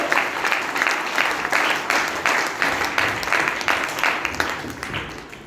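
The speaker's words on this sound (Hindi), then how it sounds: "इन सारे लोगों के लिए एक बार जोरदार तालियां" A studio audience gives a round of applause, energetic clapping with a loosely rhythmic pulse, close and loud, with no talk over it.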